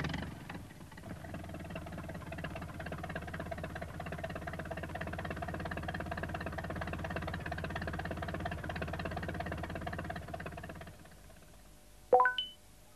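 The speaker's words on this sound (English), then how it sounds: "Peter Fogg brought the tractor to tow Pat out." A tractor engine runs steadily while towing a van stuck in the mud, its low, even chugging going on for about eleven seconds before cutting off, followed by a brief bright beep.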